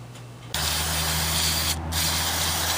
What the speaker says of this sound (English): I've been spraying it here now 2 or 3 times and working the channel knob while I spray it.